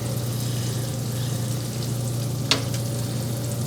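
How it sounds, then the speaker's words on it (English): Potato gratin with heavy cream and cheese bubbles and sizzles in a hot dish, a continuous soft crackling hiss under a low hum, with one brief clink. "I hear bubbling. I hear sizzling."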